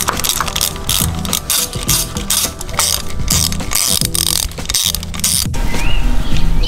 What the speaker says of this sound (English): let's take out the inside bolts first.